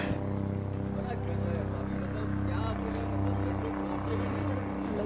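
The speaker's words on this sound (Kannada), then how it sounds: "ಹೆಲಿಕಾಪ್ಟರ್ ಬರ್ತಾ ಇದೆ" A helicopter approaching near the Kedarnath mountains, a steady low droning rotor and engine hum holding throughout at moderate level.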